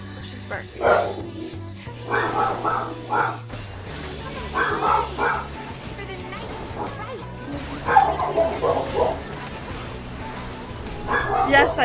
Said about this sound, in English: She's barking.